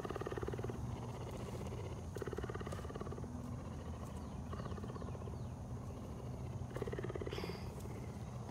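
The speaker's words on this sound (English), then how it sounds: "Hear that purring?" A rescued cougar, one of a pair brought from out west, purrs in a steady, continuous rumble with rhythmic pulses, close and fairly loud throughout, with no talking.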